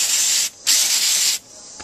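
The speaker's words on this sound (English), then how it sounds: "we'll take a little bit of just basic old contact cleaner. Let's go ahead and give it a good spray down in there and get it nice and clean" Contact cleaner sprays onto the tuning capacitor plates of a 1935 Atwater Kent Model 145 radio under restoration, in two close, loud hissing bursts, the second longer, with a brief pause between them.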